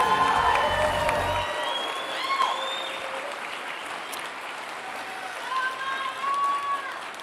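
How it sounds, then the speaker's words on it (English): A crowd applauds graduates at a technology institute graduation and pinning ceremony, a broad even wash of clapping that carries on under cheering voices and talk. "Please give our graduates another big round of applause"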